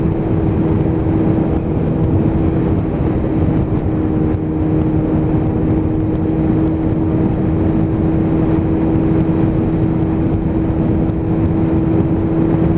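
A Kawasaki ZX7R motorcycle engine runs close and loud, a steady, unbroken drone with an even, low throb throughout.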